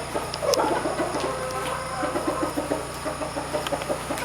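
A fighting rooster clucks in short, repeated bursts close by, the notes coming in an uneven run over a faint steady background hum, with no talking.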